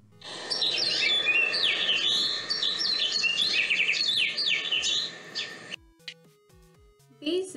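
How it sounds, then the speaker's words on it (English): High, thin house finch chirps and twittering calls repeat steadily over several seconds, fairly close, then break off into quieter scattered sounds. "If you hear a high-pitched bird call, like the one you will hear in a few seconds, then you are definitely nearby some house finches."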